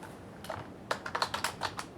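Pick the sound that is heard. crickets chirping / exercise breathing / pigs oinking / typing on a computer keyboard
typing on a computer keyboard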